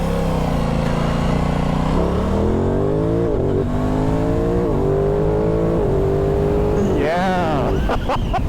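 Aprilia Tuono 660 motorcycle shifting through gears with a quickshifter and auto-blip downshifts, engine note climbing in steady steps before a sharp rev blip near the end, loud and close with a rider talking over it.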